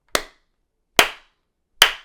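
A woman claps her hands three times, crisp and loud, the claps spaced evenly about a second apart in an otherwise silent room.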